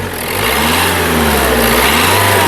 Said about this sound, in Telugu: ఇంజిన్ యొక్క నాయిస్ చాలా సైలెంట్గా అయితే ఉంది eighty five PN eighty five PS engine కారండి